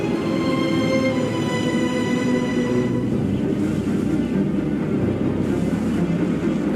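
A ship's engine running steadily at 1,100 revs, giving a constant loud drone with strong harmonic hum, joined partway through by rushing water and wind noise.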